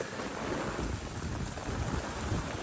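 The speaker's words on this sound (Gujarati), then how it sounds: "અતિશય વધી ગયો પવન ને વરસાદ" Steady roaring storm wind buffets the microphone, a dense continuous rush with low rumbling gusts, carrying heavy rain beneath it.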